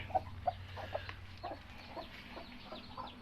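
Hens cluck in a farmyard where eggs are starting to hatch, soft, repeated clucks spaced every half second or so, faint and fairly distant over a low steady background hum.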